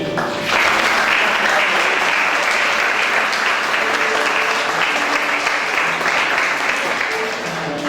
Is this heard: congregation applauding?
yes